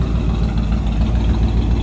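A 1957 Oldsmobile 88 Holiday four-door hardtop's V8 idles steadily, a close, continuous low rumble with an even loping pulse and no talk over it.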